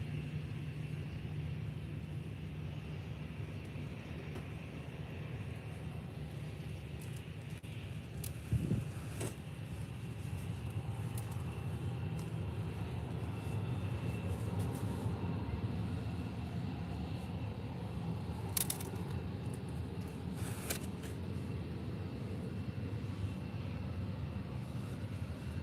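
Jet2 airliner taxiing at Faro Airport, a steady low engine drone held for the whole stretch at moderate distance, with a few brief clicks and bumps nearby and no speech.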